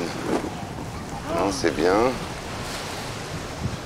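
Strong Meltem wind at sea, around 80 km/h, roaring steadily over a boat with waves and surf noise, buffeting the microphone, while someone speaks briefly in the middle.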